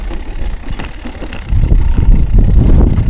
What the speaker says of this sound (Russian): Ветер поднялся уже.